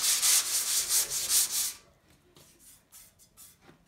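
Corroless-painted chassis metal is rubbed down by hand, giving a run of rhythmic, loud abrasive sanding strokes that stop abruptly, leaving quieter scattered scrapes and rubs afterward.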